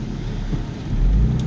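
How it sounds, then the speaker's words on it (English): A deep, rumbling engine note from a car exhaust, steady and throaty, swelling slightly louder toward the end. "the exhaust sounds very throaty"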